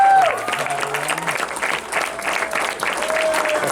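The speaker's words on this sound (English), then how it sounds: "Put your hands together for Enzo Perfetto" Wedding guests clap together in a dense burst of applause at a reception, mixed with a few cheers and murmured voices, loud at first and holding steady.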